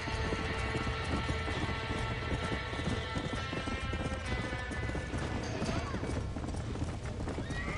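Horses whinny and hooves clatter in Red Dead Redemption during a barn fire, a steady dense din of clip-clop, neighing and crackling noise filling the whole stretch.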